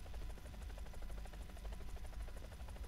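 A G-Lynx helicopter in War Thunder drones steadily with a low, pulsing rotor thump and engine rumble, continuous and fairly quiet throughout.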